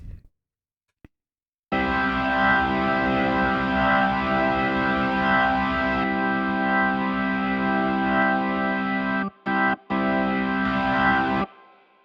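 A heavily distorted electric guitar chord from an aggressive drive preset rings out with chorus-like swirling effects and a little spring reverb, sustained for several seconds with a couple of brief breaks before fading.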